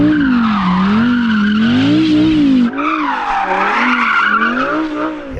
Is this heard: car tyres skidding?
yes